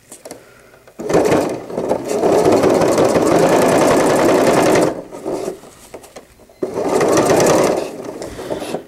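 A sewing machine top stitching a cloth diaper runs in two long, steady bursts of rapid mechanical chatter, loud and close, with a brief pause and lighter whirring between them.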